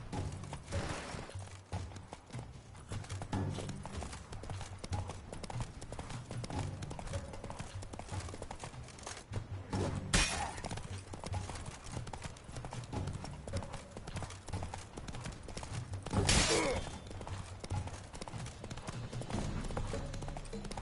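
Roach the horse galloping in The Witcher 3, with continuous rhythmic hoofbeats over in-game ambience and a couple of sharp louder bursts along the way.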